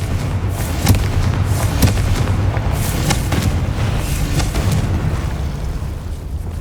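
Repeated Confringo blasting-spell explosions from the video game Hogwarts Legacy, a string of booming bursts over a dense, continuous low rumble of game sound, loud and close with no talk.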